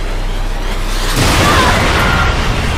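A missile strike in the video game Splinter Cell Conviction, a loud dense boom that swells into sustained rumbling blast noise, with no talk over it.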